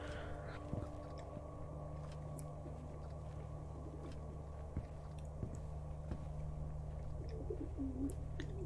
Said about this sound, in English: I can hear those pigeons.